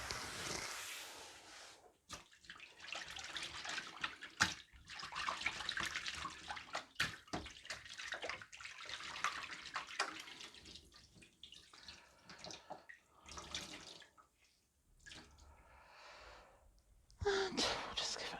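Water runs into a kitchen sink while something is rinsed under the tap, a close, continuous splashing rush that breaks off briefly and resumes in uneven bursts.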